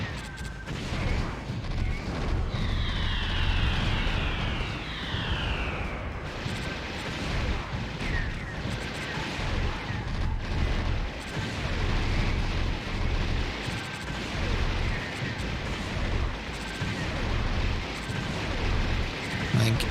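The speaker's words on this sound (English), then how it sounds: "I think hitting it with missiles is definitely the way to go." Missile strikes and explosions rumble through a space shooter game, Omega Boost, as a dense continuous barrage of booms and blasts with whooshing missile streaks over the deep roar.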